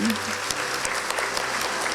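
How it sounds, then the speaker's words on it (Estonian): Dense audience applause at a school Christmas concert in an auditorium, many hands clapping steadily and close for the whole short stretch. "aga igal juhul teeme siis kõik neile ühe suure aplausi"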